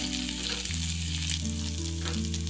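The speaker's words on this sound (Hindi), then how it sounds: "अब इसमें हम कटा हुआ प्याज ऐड कर देंगे। प्याज को पिंक होने तक भूनेंगे।" Chopped onion frying over a low flame in a pan with garlic for a spicy tomato garlic chutney, giving a steady close sizzle with a low, even hiss and no voices.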